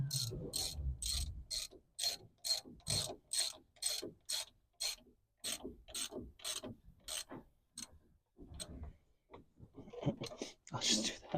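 Socket wrench ratcheting lug nuts off a 1969 Gladiator camper wheel, a series of sharp, rhythmic clicking bursts close up, pausing briefly and then resuming near the end.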